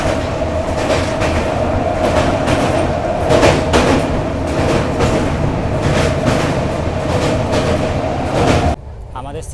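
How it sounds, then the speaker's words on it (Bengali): Rajdhani Express from Sealdah to New Delhi speeding across the Vivekananda Setu bridge, heard from inside the coach as a loud, steady rumble with rhythmic clattering that drops off sharply near the end. "দেখো মারাত্মক স্পিডে কিন্তু আমাদের ট্রেনটা ব্রিজ পাস করছে।"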